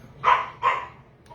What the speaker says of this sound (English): She's a very insistent dog.